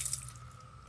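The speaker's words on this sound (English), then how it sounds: "So we'll just rinse them off really good." Water from a hose rinses pool filter components, a steady close hiss and splash for a moment with no talking.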